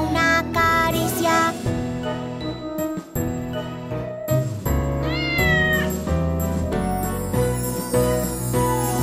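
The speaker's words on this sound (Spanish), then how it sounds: "Es un gatito pelirrojo. ¡Miau, miau, miau, miau, miau, miau!" A cartoon cat meows repeatedly in a bouncy Spanish children's song, sung meows riding over bright music with chimes and a rising slide.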